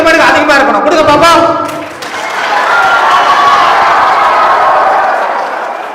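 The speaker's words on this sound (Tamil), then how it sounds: "இந்த காவல்துறை நண்பர்களுக்கு உங்களுடைய கரகோஷம் எப்படி திரும்ப இருக்கணும், 2 மடங்கு அதிகமா இருக்கணும்" Audience applause and cheering for police officers at a road-safety event, loud, mixed with voices and a shouted burst at the start, then a dip and a sustained, broad roar of clapping.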